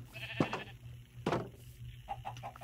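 Sheep in the Minecraft video game bleat twice in short wavering calls, clear and moderately loud, with faint game sounds between them.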